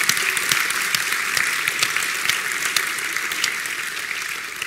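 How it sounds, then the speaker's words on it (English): An audience at a mapping conference's closing session claps for the AV volunteers, steady, dense applause from many hands that carries on evenly throughout without talking. "give them a clap"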